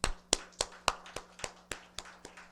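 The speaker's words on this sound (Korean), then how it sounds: "박수 한번 쳐주세요." A church congregation gives a short round of clapping at a Sunday service: about ten sharp, distinct claps in a loose steady rhythm, close and crisp, then fading, with a low steady hum underneath.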